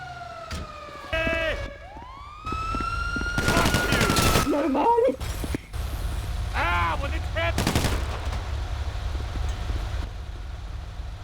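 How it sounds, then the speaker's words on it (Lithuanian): Gunfire aimed at police officers rings out in a Los Santos video game scene, sharp shot bursts mixed with siren wails and rising tones, with voices talking through the action. "Nežinia, iš kur pasirodys asmuo, išsitraukė ginklą ir pradėjo šaudyti į pareigūnus."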